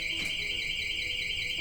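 A home security alarm, armed and set off by opening a door fitted with a door sensor, sounds a steady, loud high-pitched electronic tone that holds unbroken throughout, with no voices.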